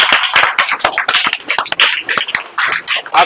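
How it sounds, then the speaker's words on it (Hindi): An audience claps for students after a school play about hand washing and personal hygiene, a loud, close round of uneven, overlapping claps running the whole time. "तो इन लोग के लिए जोरदार ताली बजा दीजिए"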